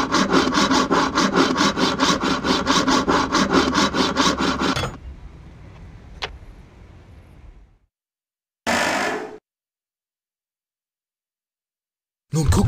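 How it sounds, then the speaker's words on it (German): A lock being sawn open in a Die drei ??? video game, a steady loud rasping saw stroke repeating rapidly for about five seconds, then fading into quieter rubbing and a few brief bursts before ending. "Am besten, wir sägen das Schloss einfach auf."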